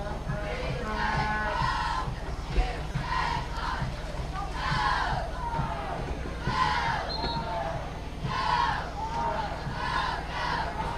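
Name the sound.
crowd at a high school football game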